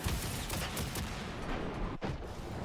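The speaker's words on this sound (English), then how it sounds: "It just absolutely hates being in the net when that goal explosion goes off." Rocket League goal explosion during a competitive match, a dense, roaring blast of crackling booms that fills the whole stretch, loud and continuous with a brief dip before surging again.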